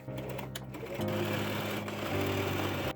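A sewing machine stitches a tiered skirt, its motor whirring steadily and close up, with a few brief pauses and shifts in speed.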